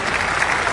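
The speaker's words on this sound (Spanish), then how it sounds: "Un aplauso para mi amigo." Audience applause fills a concert crowd at the Cosquín 2013 folk festival, steady dense clapping throughout a short burst with no voices standing out.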